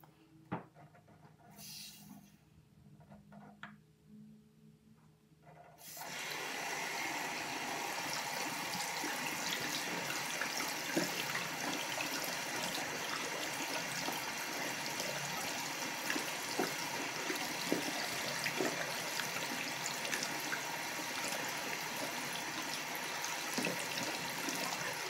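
Water poured into a My Little Pony toy with a water-changing tail: after a few quiet seconds with faint handling, a steady rushing pour runs continuously and fairly loud, close up.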